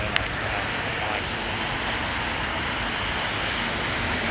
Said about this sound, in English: Singapore flight 747-300